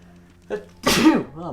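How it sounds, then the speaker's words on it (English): A single loud, sharp sneeze bursts out close to the listener, preceded by a short intake of breath and followed by a brief voiced exhale. "Sneezing up a storm."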